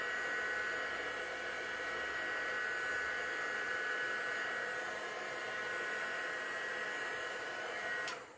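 A heat tool blows loud and steady for several seconds, melting embossing powder on a stencilled floral card, a constant close whooshing hum that cuts off near the end.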